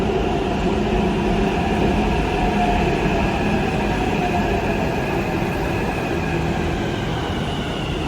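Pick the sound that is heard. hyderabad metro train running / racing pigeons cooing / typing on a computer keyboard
hyderabad metro train running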